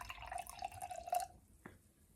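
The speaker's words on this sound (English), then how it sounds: "I'll show you just by pouring a little bit into the glass." Fizzy Moscato d'Asti is poured into a glass in a soft, close trickle lasting about a second. A single faint drip follows in a quiet room.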